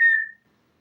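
A single short whistled note, clear and close, fading out after about a third of a second and followed by silence.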